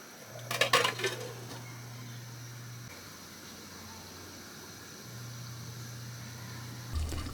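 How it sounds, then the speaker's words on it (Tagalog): Beef afritada stew stirred in a cooking pot: a short burst of metal clinks and scraping near the start, then a steady low simmering hiss, with another brief clatter at the end. "Haluin lang natin to saglit at antayin kumulo ang sabaw bago natin ito takpan."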